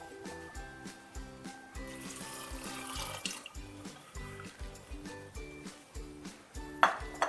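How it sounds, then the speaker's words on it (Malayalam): Water pours steadily into a pressure cooker holding soaked red cowpeas for a Kerala Thiruvathira puzhukku, with a soft running splash and a faint metallic ping near the end, under rhythmic background music. "ഇത് കുക്കറിലേക്ക് ഇട്ട് നമുക്ക് കുറച്ച് വെള്ളം ഒഴിച്ച് ഉപ്പ് ഇട്ടിട്ട് വേവിച്ചെടുക്കാം."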